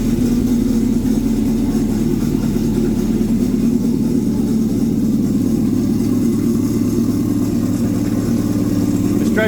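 Honda Aquatrax R12X jet ski engine with a straight exhaust pipe and intercooler, idling with a steady, lumpy low rumble throughout.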